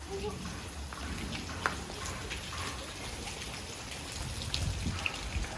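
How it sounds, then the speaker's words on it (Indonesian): Steady rain falls outdoors as a dense, continuous patter of drops, close and moderately loud, with faint voices underneath. "Ya Allah, hujan-hujan gini."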